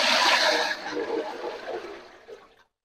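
Water poured into a cooking pot for boiling rice while making soya chaap dum biryani: a strong gushing pour that gradually thins into a trickle and then stops.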